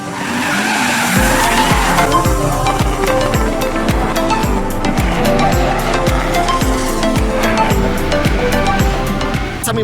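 Drift cars skid around a track at a drift event, tires squealing in long repeated bursts over loud, steady engine roar, with sharp pops and a continuous dense wash of motorsport noise.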